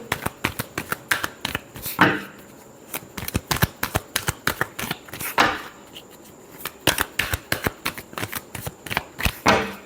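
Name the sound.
shuffling tarot cards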